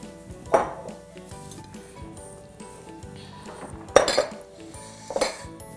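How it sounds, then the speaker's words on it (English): Flour, cinnamon and salt are mixed in a bowl, a utensil scraping softly with a few sharp clinks against the side. "So I'm just mixing together the flour, cinnamon, and salt all the way"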